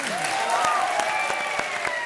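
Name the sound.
audience applause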